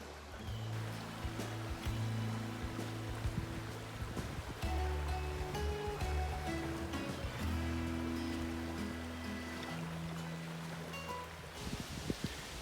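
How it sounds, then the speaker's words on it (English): The Manistee River flows steadily at its edge along an autumn forest trail, a constant rushing wash of water heard up close with no voices. "Well, made it down here to the river's edge."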